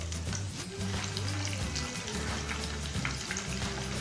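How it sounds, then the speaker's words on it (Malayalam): Frozen french fries frying in hot oil, a dense, even bubbling sizzle with faint crackles, loud and close throughout without any voices. "ഞാൻ അതിലേക്ക് കുറച്ച് ഫ്രഞ്ച് ഫ്രൈസ് ഒക്കെ ഒന്ന് ഇട്ട്"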